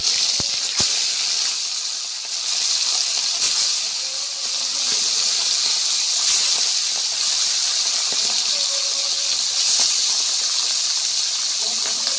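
Fish fry in hot oil with a loud, continuous hissing sizzle that swells and eases over several seconds. A few sharp clicks come near the start, and a brief faint tone appears now and then.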